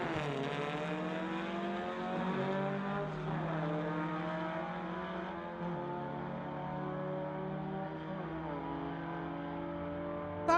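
Volkswagen Beetles, one of them a 1954 Beetle, drag racing side by side on a street-legal drag strip. Air-cooled engines drone at a steady pitch through one long, continuous pass, heard from a distance and fairly faint.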